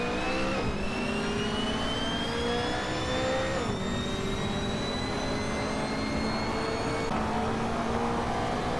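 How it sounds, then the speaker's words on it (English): Hot Wheels game car engine heard from the cockpit, a steady loud whine rising in pitch through successive gear shifts, with brief drops between each climb and no voices. "Very interesting sounding car from the inside."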